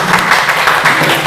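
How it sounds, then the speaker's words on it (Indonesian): A short burst of steady clapping from a group of students in a classroom, a dense patter of many hands close by. "Tepuk tangan untuk kelompok 1."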